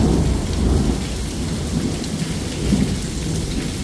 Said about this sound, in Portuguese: Trovões e relâmpagos, um atrás do outro.